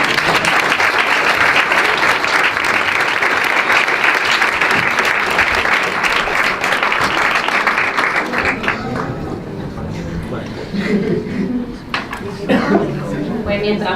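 An audience at a Pint of Science talk in Ciudad Real gives sustained, loud applause after the presentation, fading after about eight seconds into scattered claps, chatter and laughter.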